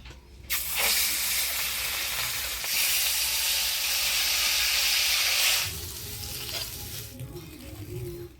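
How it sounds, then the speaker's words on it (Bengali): Fish frying in mustard oil in a village-style kitchen, a loud steady sizzle and hiss that holds for several seconds, eases near the end and leaves a softer crackle. "মাছগুলো ভাজিয়ে নেব"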